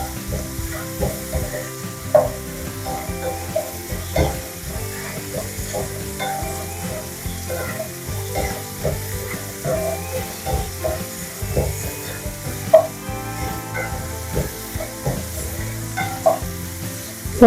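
Pieces of elephant foot yam frying in oil for a Kerala stir-fry, a close, continuous sizzle and crackle with irregular pops and occasional spatula scrapes against the pan, no voices.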